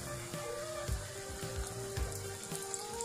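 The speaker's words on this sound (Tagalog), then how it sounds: "prito na natin yung pinagulong nating fish fillet sa crispy fry" Breaded fish fillet coated in crispy fry mix sizzles steadily in hot oil, a continuous quiet crackle with occasional soft bumps and no talking.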